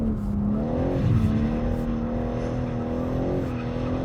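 A 2024 BMW M3 Touring drifts in second gear with traction control off, its engine holding a steady, loud drone while the tires squeal continuously and the pitch dips and rises slightly through the slide.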